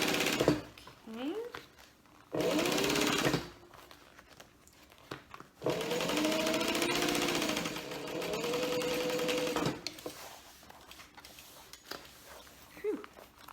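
A sewing machine stitches a bag in several bursts of a few seconds each, separated by pauses, heard fairly close.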